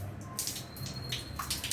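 Water running and splashing while a container is rinsed out, a steady close wash with bursts of splashing and faint drips.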